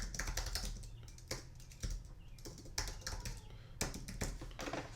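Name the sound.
typing on computer keyboard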